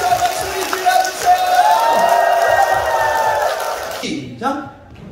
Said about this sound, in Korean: 박수 한번 소리 질러주세요